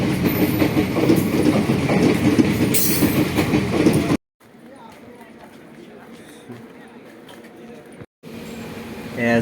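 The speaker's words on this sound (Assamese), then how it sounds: "চিফুং গাড়ী ষ্টেচনত সোমালা।" Loud rolling noise of a train entering a station, with rail clatter for a few seconds, then a sudden cut to quieter muffled background and another abrupt switch.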